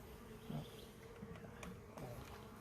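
Honeybees buzzing faintly during the installation of a 3 lb package of bees, a soft, continuous insect drone with a few brief louder hums close by and no talk.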